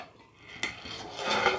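A new nonstick kadhai (wok) is handled while being unboxed, giving a short metallic clatter partway through, then a busier rattle of cookware near the end. The handling is close and moderately loud in a quiet room.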